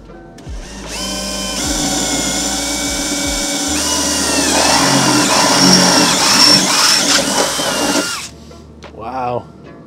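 A power drill bores with pilot bits while building a water box for a WRX intercooler, a loud close motor whine running steadily for several seconds before cutting off.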